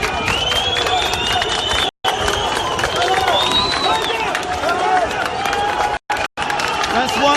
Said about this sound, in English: Scenes of jubilation here as the military are dismissed from part of Taksim Square.